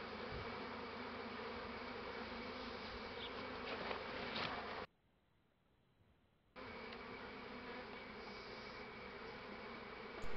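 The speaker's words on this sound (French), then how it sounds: "les abeilles vont entrer tranquillement dans la ruche" Honeybees drone steadily as they move into a Dadant hive after being transferred from a Warré hive in a garden, a dense, even buzz close by that cuts out briefly in the middle and then resumes.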